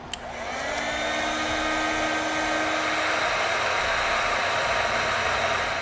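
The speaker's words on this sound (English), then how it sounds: "I'm using a heat gun to shrink down my connector here." Heat gun shrinking a wire connector on a trailer wiring kit, a loud, steady blowing whoosh with a whining motor tone that starts after a brief click and runs continuously, close to the mic.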